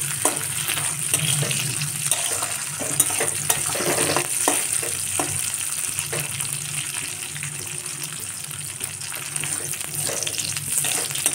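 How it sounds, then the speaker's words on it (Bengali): Food frying in hot oil for basanti polao, a continuous dense sizzle with scattered crackles and occasional stirring scrapes, close and steady throughout with no talking. "আমার ভাজা হয়ে গেছে, এবার এগুলো আমি তুলে নেব।"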